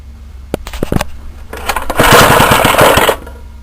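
A small rebuilt 75cc Suffolk engine with high compression chuffs in a few irregular bursts, then runs roughly and loudly for about a second with uneven firing before cutting out.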